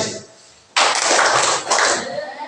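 A school class breaks into the spirited clapping chant, a sudden burst of dense group clapping that cuts in after a quiet moment and keeps going loudly, with a brief dip partway through.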